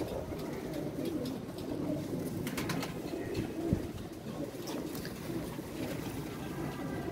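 Paired pigeons in a loft coo softly and repeatedly amid a steady background hum, with a few sharper rustles and clicks mixed in.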